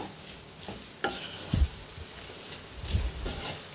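Onions sautéed with chicken in a thick gravy in a pan make a soft, continuous sizzle broken by scraping stirs and a few louder knocks of the spoon against the pan.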